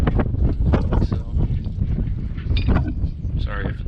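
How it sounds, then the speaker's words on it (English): Wind buffets a microphone outdoors on a breezy spring day in Idaho, roaring and rumbling steadily throughout with gusty swells; faint voice-like sounds may be mixed into the noise. "Sorry if it's a little windy."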